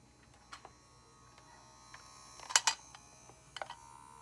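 A small battery-powered beauty blender washing machine running on AAA batteries gives off a faint, thin electric whir over a low hum, broken by a few sharp plastic clicks and taps as it is handled.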